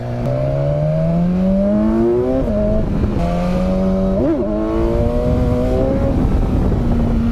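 A motorcycle engine revs hard and close as the throttle opens, its pitch climbing steadily through gears with brief dips at each shift, loud and continuous with wind rushing underneath.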